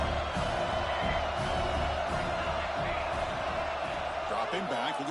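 Stadium crowd in a college football video game, Alabama versus Tennessee, roars in a steady, loud wash of cheering throughout, with a commentator's voice talking over it.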